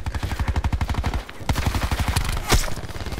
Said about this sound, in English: You hear your teammate getting shot